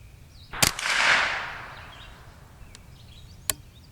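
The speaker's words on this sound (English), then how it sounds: "Again, I'm shooting at the 8 on the left." Two sharp .22 rifle shots from a Winchester 68 and a Ruger 10/22 at target practice outdoors. The first is loud with a long ringing tail, and the second is a quick crack about three seconds later.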